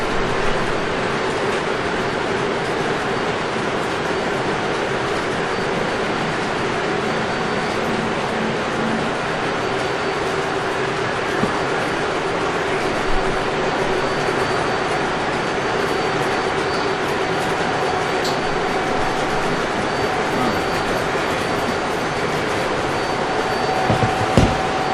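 Model trains run on the KTMR railroad layout, a loud, continuous rolling rumble and whir that holds steady for the whole stretch with no talking.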